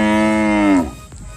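A single loud, close ox lowing, a long tonal moo that breaks off sharply after under a second, at a rural Punjab village before an ox race.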